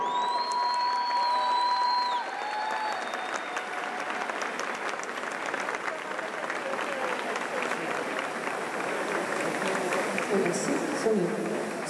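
A concert audience breaks into loud, sustained applause welcoming a singer, with some cheering and whistles mixed into the steady clapping.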